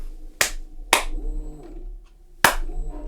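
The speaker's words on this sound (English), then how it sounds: "So like when I clap, it lights up." Three sharp hand claps spaced apart, near and loud, triggering a sound-activated Betopper LF350 party light, with a faint tonal hum between claps.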